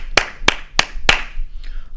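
Church congregation applauding, heard as four loud, evenly spaced claps about a third of a second apart, followed by a faint trailing sound.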